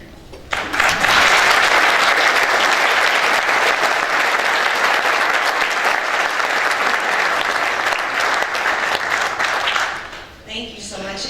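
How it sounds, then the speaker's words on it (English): Sustained applause from a conference audience in Boston, a dense, loud roar of clapping that holds steady for about ten seconds before tapering off, with a few voices heard near the end. "Let's give another round of applause."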